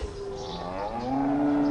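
Cows lowing in a grassy meadow, a long drawn-out moo that rises in pitch, close and clear with no talk over it.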